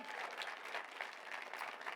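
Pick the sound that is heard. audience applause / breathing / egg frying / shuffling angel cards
audience applause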